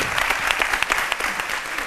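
A studio audience on a midday television show applauds members of the Jeune Chambre Internationale de Côte d'Ivoire, giving a short, loud, close burst of many hands clapping, with crisp individual claps standing out of the roar.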